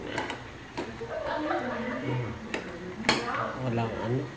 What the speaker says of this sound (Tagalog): Haluin natin. Haluin.